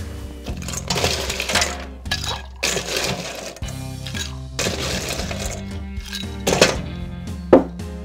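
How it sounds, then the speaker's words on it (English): Ice goes into a cocktail shaker for a Halloween drink made with pomegranate juice: a run of clinking, rattling cubes close to the mic with a sharp clack near the end, over a steady musical background. "We want to add some ice."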